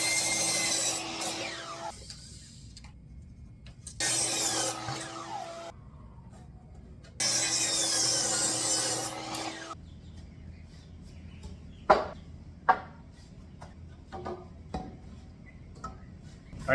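A handsaw cuts through a 2x4 wooden board in three bursts of rasping back-and-forth strokes, close and loud. Pauses separate them, and sharp wooden knocks and clunks follow as the cut pieces are handled.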